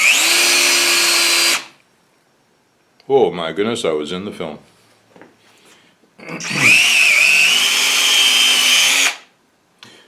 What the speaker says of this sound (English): Hold it flush to the wood and drill the hole.